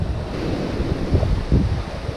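Strong wind on the Oregon coast during rock fishing buffets the microphone in a loud, steady, gusting roar, with surf rumbling underneath and no voices.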